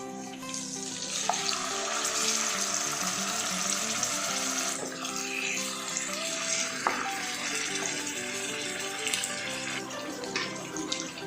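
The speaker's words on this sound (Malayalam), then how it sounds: "എണ്ണതാ നല്ല ചൂടായിട്ടുണ്ട്. അപ്പോൾ നമുക്കിനി ഓരോന്നിട്ടിട്ട് ഫ്രൈ ചെയ്തെടുക്കാം" Masala-coated katla fish pieces frying in hot oil, a steady broadband hiss and bubbling sizzle running throughout at moderate, close range with small pops and clinks.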